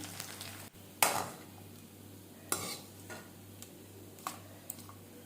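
Soft sizzling of beef frying in a pan for Palakkad-style biryani, broken by a few sharp clinks and stirring scrapes, with no voices.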